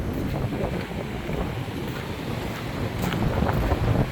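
Strong wind buffets the microphone in a continuous roar, with water and waves washing underneath, steady for the whole stretch.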